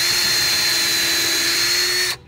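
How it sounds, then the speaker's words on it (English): A power drill runs steadily as it pre-drills screw holes in wood pieces for an IBC aquaponic grow bed, a loud continuous whine holding for about two seconds before cutting off. "I'm pre-drilling because I don't want the wood to split when I put my screws in there"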